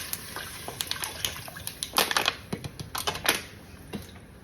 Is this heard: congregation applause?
no